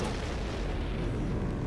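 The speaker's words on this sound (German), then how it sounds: "Das war ein Knall." Explosion as an airship crashes in the video game Final Fantasy IX, a dense continuous rumbling roar filling the whole stretch, loud and heard alone.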